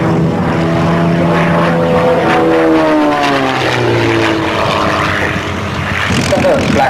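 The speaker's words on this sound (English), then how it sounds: "Now this engine on there is a huge engine. It's really, really big. 360 horsepower." A huge 360-horsepower propeller aircraft engine at the 1994 Cranfield air show in Bedfordshire. It drones loudly and steadily, its pitch sliding down as the plane passes close by outdoors.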